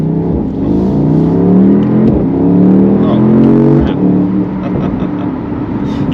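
A 2022 Mercedes-AMG SL63 with a 577-horsepower biturbo V8 and all-wheel drive pulls onto a busy road, its engine loud and close as it revs and climbs through rising, falling gear pulls.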